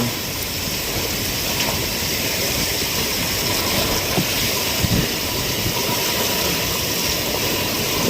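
Strong typhoon wind in Surigao during Typhoon Kabayan roars as a loud, unbroken rushing hiss with buffeting gusts striking the microphone.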